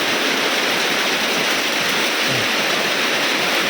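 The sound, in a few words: heavy rain during a storm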